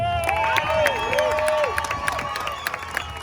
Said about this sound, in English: give them all a good applause